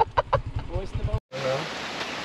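Chickens clucking in short repeated bursts close by, then steady rain noise washing over the scene.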